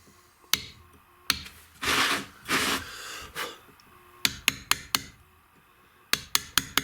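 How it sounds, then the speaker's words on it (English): A hammer strikes a chisel while letters are carved into stone with a basic carving kit. The sharp, close metallic taps come singly at first, then in quick runs of four or five, broken by a few rough scraping sounds. "then I go in with a little bit more weight on the chisel, a little bit more weight on the hammer"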